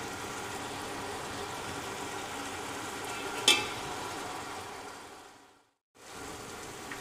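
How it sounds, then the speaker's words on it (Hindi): Chicken frying in a pan for a home-style masala chicken biryani, a steady soft sizzle with one brief stirring clatter midway and a short drop to silence near the end before the frying resumes. "ये देखें हमारा चिकन अच्छी तरह से फ्राई हो गया है"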